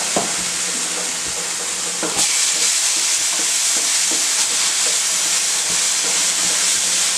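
Puree of two blended tomatoes sizzles and hisses steadily in a pan of okra masala, a continuous broadband frying noise with a louder surge around two seconds and occasional stirring scrapes, heard alone without talk.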